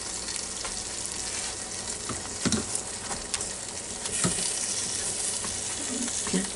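Southern fried chicken cooks in hot oil inside a Ninja Foodi pot, with a continuous bubbling sizzle broken by occasional sharp clunks and scrapes, close and fairly loud.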